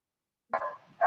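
A dog gives two short, close barks separated by a brief gap, after a moment of silence.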